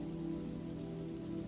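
Steady rain falls in a continuous soft hiss with a low rumbling bed, constant and even throughout with no voices.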